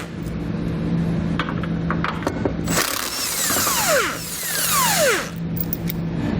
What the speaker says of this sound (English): I'm going to grab a 15mm socket, and we'll pull all 3 of those bolts out on each side